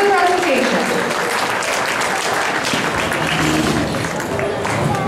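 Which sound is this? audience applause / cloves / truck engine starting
audience applause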